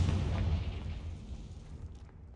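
Confringo fire spell explosion in the wizarding game Hogwarts Legacy, a low, rumbling blast that starts strong and slowly fades over a couple of seconds, heard alone with no talking.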